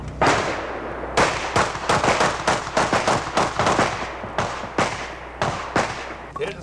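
.45 pistols loaded with hardball ammo fire at bowling pins during a combat shooting match, giving a rapid series of loud, sharp shots with brief echoing tails.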